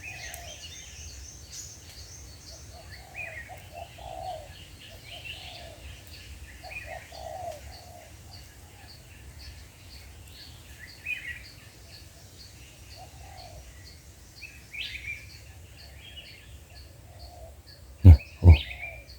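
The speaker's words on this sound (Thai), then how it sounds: "แต่นกตัวเนี้ยขันโยนเพราะนะครับเสียงใสปิ๊งเลย" A spotted dove coos in mountain forest, soft repeated calls at a moderate distance over faint background noise, with two sharp knocks near the end.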